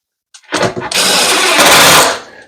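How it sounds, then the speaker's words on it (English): A power drill drives screws into the wood of a bathroom cabinet drawer face, a close, loud whirring burst that winds up and then strains briefly as the screw draws tight. "You heard the drill. It drew up tight."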